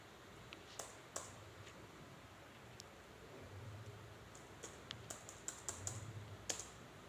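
Quiet typing on a computer keyboard: sparse, irregular clicks of single keys and short bursts of keystrokes over a faint background hiss, with no talking.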